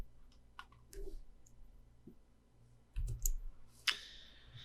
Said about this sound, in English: I'm just going to use my keyboard shortcut Control and Page Down on my keyboard.